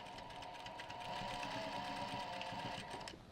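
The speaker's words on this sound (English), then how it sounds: "I'm going to start sewing exactly from this point there" A sewing machine running steadily on a rolltop rucksack with a normal to small stitch and a back stitch, a continuous close mechanical whir that dies away at the end.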